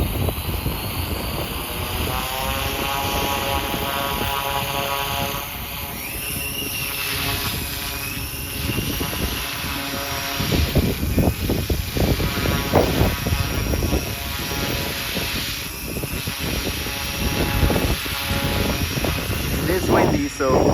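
An RC EC 135 500-class model helicopter hovers on its first flight on a windy day, its rotor giving a steady high whine and buzzing drone with gusting wind noise throughout.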